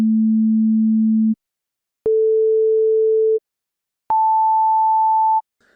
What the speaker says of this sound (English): I've written 3 sound files that each contain a pure sine wave of a different frequency